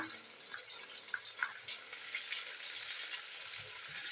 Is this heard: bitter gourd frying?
yes